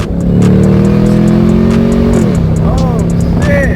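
Loud straight-piped Camaro ZL1 V8 revving hard, the pitch holding high then dropping sharply on a downshift before settling into a rough, throbbing idle-like rumble; someone talks over it.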